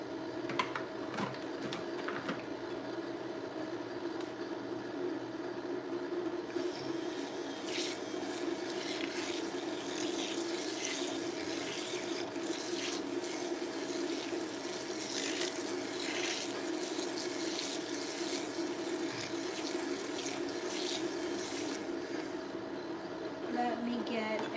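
Water runs from a tap in a steady, loud, continuous rush that lasts throughout, with a brief mutter of speech near the start.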